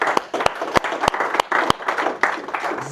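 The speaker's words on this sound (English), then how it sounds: "Round of applause." Small audience applauding at the close of a talk on Claude's projects, skills and connectors, with sharp individual claps ringing out over a steady patter of hands for about three seconds.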